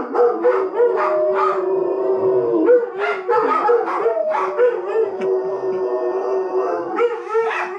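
Several dogs howl together indoors in long, wavering, overlapping cries that rise and fall, loud and close, with a few yips mixed in.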